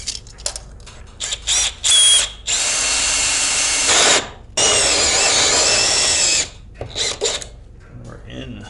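A power drill bores a 2-inch hole through a SIPs wall panel, with short bursts followed by two long, loud, steady grinding runs and brief pauses between. Faint talk can be heard in the background.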